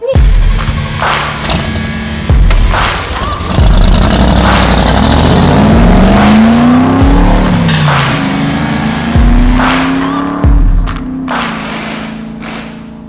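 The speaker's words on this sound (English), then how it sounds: "We just put in a fresh battery and finally got the car fired up" A Pontiac Fiero Ferrari kit car engine, just started after a battery change, runs loudly and unevenly, its pitch rising and falling as it revs, with occasional thumps and clatter mixed in.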